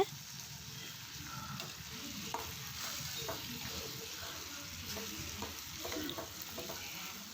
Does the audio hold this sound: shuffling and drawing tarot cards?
no